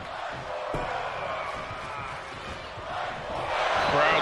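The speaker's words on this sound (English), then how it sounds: "Crowd certainly loving this match" A wrestling event crowd cheers and roars in a big arena, with the noise swelling toward the end under a commentator's voice.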